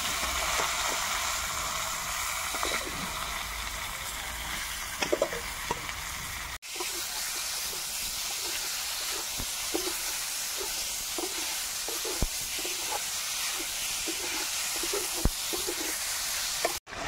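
Boiled elephant foot yam and crushed ginger frying in a pan, a continuous close sizzle with scattered clicks and scrapes of stirring, a brief cut near the middle and no voices.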